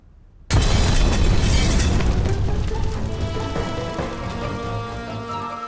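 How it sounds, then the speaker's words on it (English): A loud, sudden explosion booms in after a brief quiet, followed by a long rumbling decay with crackling debris, like a blast at a house under construction near a golf club in Surrey. "there was an explosion at Lloyd George's new house, still under construction near his golf club at Walton-on-the-Hill in Surrey"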